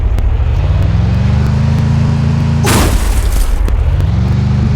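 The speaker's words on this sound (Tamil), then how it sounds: "வண்டி கூட ஓட்டுட்டேங்க போய் முட்டிட்டேங்க மங்கேஷ்" A vehicle crashes in the video game Free Fire: a loud engine drone runs throughout, broken by a sudden burst of impact noise near the middle before the engine tone rises again.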